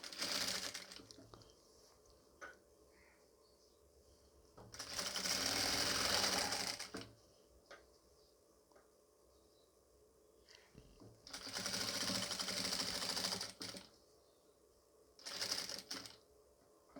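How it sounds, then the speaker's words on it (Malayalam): A sewing machine stitches nighty fabric pieces onto a yoke piece, running in several loud, fast mechanical bursts with quieter pauses between them. "ഈ പീസ് ഞാൻ ഈ ഒരു യോക്ക് പീസിൻ്റെ മുകളിൽ കൂടി വെച്ചിട്ട് 4 ഇഞ്ച് അകലത്തിൽ സ്റ്റിച്ച് ചെയ്ത് കൊടുക്കും കേട്ടോ."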